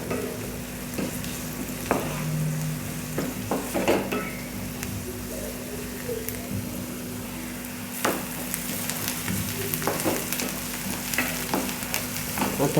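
Onion and crushed garlic fry steadily in a pan, a continuous close sizzle with occasional stirring scrapes and light clinks throughout, no voices.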